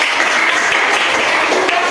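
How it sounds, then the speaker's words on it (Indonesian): Classroom applause for students who have just finished a presentation, a loud, busy patter of many hands lasting a couple of seconds. "kita beri tepuk tangan kepada"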